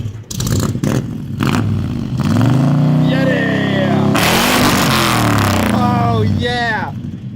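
An 1982 Chevy truck fitted with a Corvette engine revs loudly and close, its deep exhaust rising and falling through several throttle blips while people talk and cheer over it.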